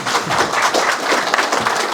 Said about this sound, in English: Have another round of applause for Tony, please